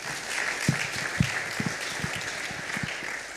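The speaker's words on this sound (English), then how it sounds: "So let's all clap for ourselves." Conference attendees at a wildlife science meeting clap for themselves, a modest scattering of individual hand claps with audible separate strikes, fairly close and lasting a few seconds.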